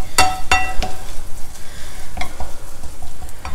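Coriander leaves thokku being stirred in a pan with sesame oil and methi powder, a few sharp spatula scrapes against the pan near the start, then a soft steady sizzle with occasional clinks, no talking.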